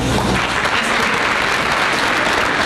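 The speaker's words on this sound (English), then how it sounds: "please hold our applause to the end" Dense, steady audience applause fills a school honor awards assembly hall, a loud continuous wash of many hands clapping at once with no pauses and no voices on top.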